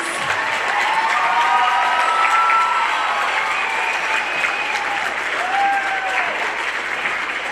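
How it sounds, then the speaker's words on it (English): Audience applause at an evening children's Christmas concert by Washington Franklin, loud and sustained for the full length, with scattered whistles and cheers rising above the dense clapping. "Let's give them one more big round of applause."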